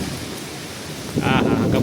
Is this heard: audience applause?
no